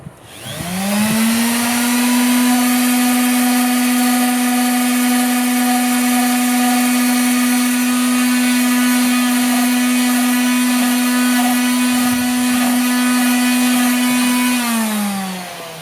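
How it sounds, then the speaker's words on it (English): Power sander working the ends of pipes for a surfboard rack, a loud, steady high-pitched motor whine that spins up, holds for about fourteen seconds and winds down, with no talking. "Next thing we're going to do is we're going to sand the ends of the pipes."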